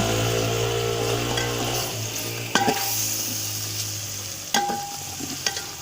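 A spoon stirs matar pulao, rice with peas, in a cooking pot over steady sizzling heat, with a few sharp metallic scrapes and clinks against the pot. No one speaks.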